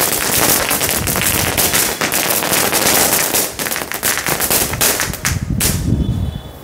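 A firecracker gun, a lit novelty cracker, fires a rapid, loud string of sharp cracking bangs for several seconds, close by, ending in a final burst and hiss.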